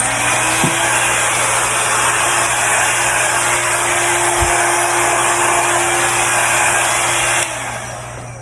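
Hair dryer blowing steadily on poured paint and water, a loud constant whirring hiss close by that drops slightly in level near the end.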